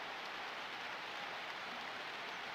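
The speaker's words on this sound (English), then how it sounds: "And it's raining again." Steady rain pours down in the football video game NFL 2K1, a dense, even hiss holding at a constant level throughout with no talk over it.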